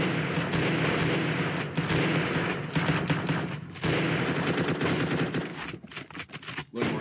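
Rapid automatic gunfire in the video game CS:GO, dense sustained bursts of shots broken by a few short pauses, loud and close, with no talking.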